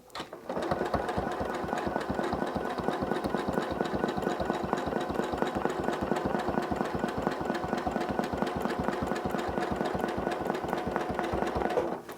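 A sewing machine stitching steadily while ruler quilting a nine patch block, with a close, continuous fast needle rhythm running unbroken for the whole stretch.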